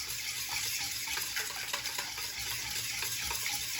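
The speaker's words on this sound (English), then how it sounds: "So just kind of spin that around with a whisk." A whisk spins through sour cream, milk and bouillon for a hashbrown casserole, a soft steady swishing and stirring in a bowl, quiet and continuous with no voices.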